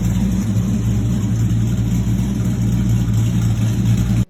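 A 1960 Chevrolet C10 Apache pickup engine runs loud and close with a steady, throaty low rumble and a fairly even pitch the whole way through. It cuts off abruptly at the end, and no one speaks.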